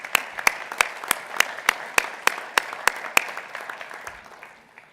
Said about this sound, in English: I just want a round of applause right now for our sponsors